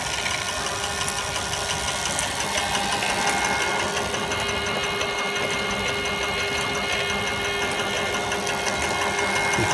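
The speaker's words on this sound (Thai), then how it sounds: "มาลองมาดูเกียร์9ครับเดี๋ยวผมจะเร่งเต็มที่เลยนะว่าเกียร์9จะได้ความเร็วเท่าไหร" A 750W mid-drive KP electric mountain bike accelerates at full throttle in ninth gear, giving a steady, loud mechanical whir and motor drone that holds level and unbroken throughout, with no talking.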